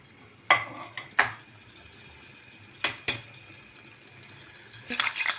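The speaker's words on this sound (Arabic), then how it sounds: "وهننزل فيها الاول بالثوم اللي معانا، ثوم مفروم" Minced garlic frying in fat in a pan, a soft sizzle broken by a few sharp clinks and scrapes of stirring, with no talking.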